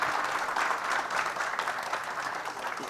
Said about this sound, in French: Une bonne main d'applaudissements pour notre invité aujourd'hui